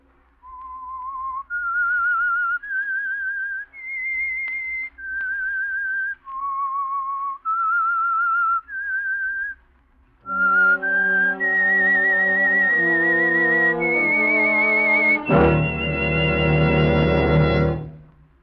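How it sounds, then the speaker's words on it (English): Whistled theme of the Signal Oil Program's radio mystery series The Whistler: a lone clear whistled melody of rising and falling notes, then a full orchestra swells in loudly and carries the tune to the end. "That whistle is your signal for the Signal Oil Program, The Whistler."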